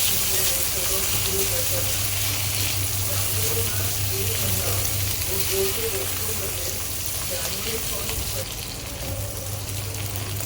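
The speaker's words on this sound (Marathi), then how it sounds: "शिमला मिर्चला पण थोडंसं असं फ्राय करून घेऊया" Capsicum (bell pepper) fries in hot oil with a steady, continuous sizzle and a low hum underneath, the sound even and unbroken throughout, with faint background noise.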